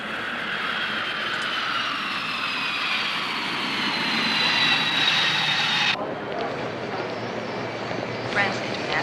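A passenger airplane roars steadily as it arrives at an airport, a loud sustained engine whine that holds for several seconds before its tone abruptly shifts and continues at a slightly lower level.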